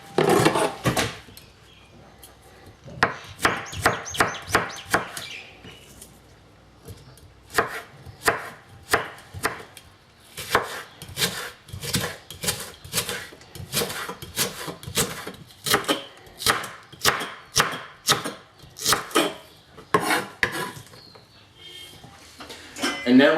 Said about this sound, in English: We're just going to chop up the spring onions